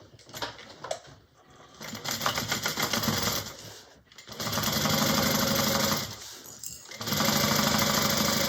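A sewing machine stitches a fabric panel onto a Destiny Bag in close, steady bursts, running hard for stretches with short pauses between seams.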